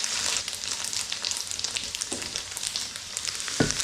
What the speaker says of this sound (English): So I'm going to finish frying off this tofu